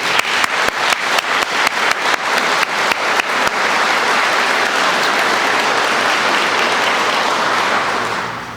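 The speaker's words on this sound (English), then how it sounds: "Please join me in a round of applause" An audience at a career recruit class graduation starts with a few sharp, rhythmic claps that quickly swell into loud, sustained applause from a large crowd, then fade slightly at the end.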